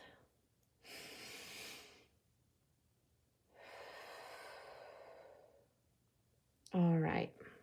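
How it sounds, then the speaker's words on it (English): A person takes two long, slow deep breaths, first a drawn-in inhale and then a drawn-out exhale, close and breathy, followed by a short burst of voice at the end. "We're going to take a nice deep breath."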